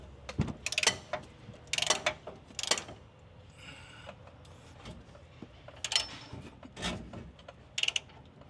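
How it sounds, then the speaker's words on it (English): Small wrench working the tie rod jam nut on a 2011 Infiniti QX56, with repeated sharp ratcheting clicks in short rhythmic bursts, close up and without talk. "So what you can do is use a small wrench and then bring everything back in."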